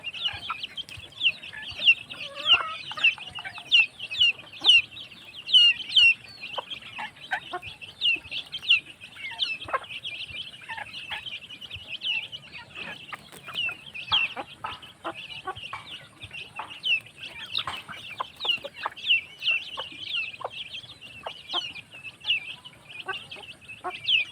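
Broiler chickens, many still small, cluck and chirp continuously close by, with scattered sharp peeps over a soft background bustle.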